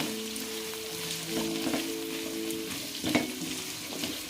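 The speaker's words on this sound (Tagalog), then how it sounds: "Kailangan medyo maprito-prito ng konti." Carrot and potato frying together in a pan, giving a steady quiet sizzle with occasional stirring clatter and crackles throughout, and no voices.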